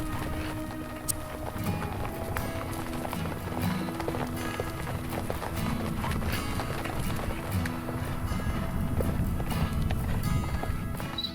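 Horses brought in from pasture by wranglers at a dude ranch, hooves clip-clopping steadily in a busy, continuous patter of many animals moving together, with a faint neigh.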